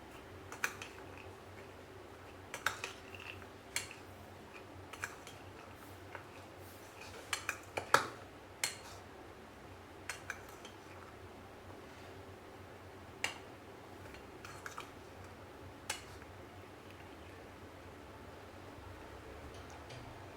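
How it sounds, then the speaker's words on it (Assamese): A spoon stirs chickpeas in a bowl, producing sparse sharp clinks and taps against the dish at irregular intervals over a quiet background hum. "এতিয়া ভালকৈ চামুচেৰে লৰাই দিওঁ।"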